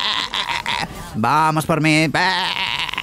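Sheep in a video game bleat in wavering, quavering cries that overlap with a voice talking, loud and close.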